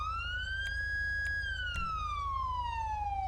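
A police siren's primary tone from the Luxart Vehicle Control game mod wails steadily: one loud, continuous tone that rises, holds and then slowly falls over a low engine hum.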